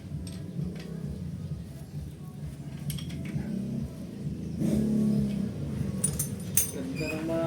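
A Mazda RF engine idles with a low, steady rumble, quiet and fairly close, while people talk around it and small metallic clinks and ticks come and go.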